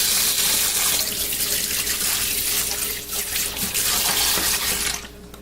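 Plant roots rinsed under a running tap, a loud steady rush of water splashing into a sink that dips briefly, then cuts off near the end.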